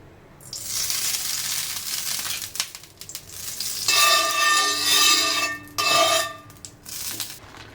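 Thalipeeth multigrain flatbread roasts on a hot griddle coated with oil, building from quiet to a loud, hissing sizzle that surges in two strong bursts with faint clinks, heard alone without speech.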